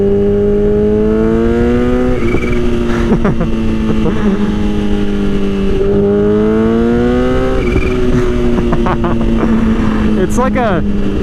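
A Kawasaki Ninja H2 motorcycle engine revving under throttle, loud and continuous with rising and falling pitch through two rev swells, heard over strong wind noise from riding.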